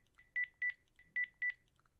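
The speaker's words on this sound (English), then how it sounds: "Whoa, 6 phone calls from the same guy? I'd better call them back." Telephone keypad dialing tones from the video game BROK The Investigator: four clear, evenly spaced beeps, each a paired dual tone, sounding alone and close with nothing else around them.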